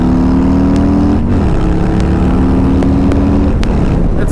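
Harley-Davidson Softail Low Rider S with a Stage 4 131 engine, riding past part throttle: a loud, continuous engine drone with rising and shifting harmonic tones, constant wind rush over the microphone, and no speech.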